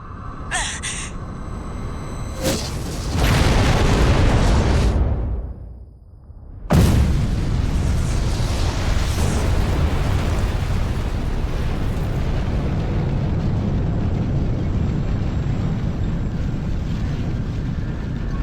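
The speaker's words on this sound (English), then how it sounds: "Satellite cannons?" Satellite cannon blasts in the mech combat game Armored Core 6: a loud booming explosion bursts out, fades into a short lull, then a second heavy blast gives way to a sustained roaring rumble.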